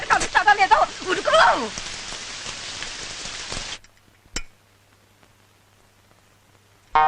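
Steady rain pours down, loud and close, with voices speaking over it; the downpour cuts off abruptly partway through, leaving near silence with a single brief knock.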